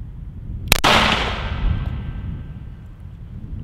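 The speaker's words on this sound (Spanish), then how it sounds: "Vamos a efectuar el segundo disparo." A single gunshot is fired during a bulletproof vest or plate test: one sharp, loud crack followed by a ringing decay that fades over a couple of seconds.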